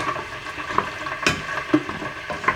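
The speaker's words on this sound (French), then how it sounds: "Je vais mélanger tout ça." Whole tomatoes crushed with a spoon are stirred in a saucepan, giving close, uneven wet scraping and soft squelches in short bursts.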